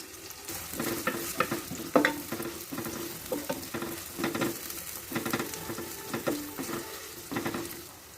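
Onions sizzle in a hot pan for a spaghetti sauce, a steady frying hiss broken by repeated scraping and stirring strokes, close and fairly loud with no talking.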